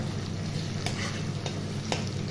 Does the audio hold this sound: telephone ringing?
no